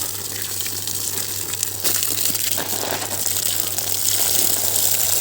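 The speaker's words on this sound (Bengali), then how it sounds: "জাস্ট পাইপ দিয়ে এভাবে ধুয়ে দিতে হচ্ছে উপরটা" Water gushing from a pipe to rinse the top of a goldfish tank, a continuous splashing rush with crinkly spatter, steady and fairly close, swelling slightly louder toward the end.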